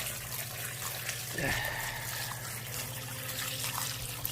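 Radish greens are rinsed under cold running water, a steady trickle and splash from a tap with faint handling of wet leaves, fairly quiet and continuous.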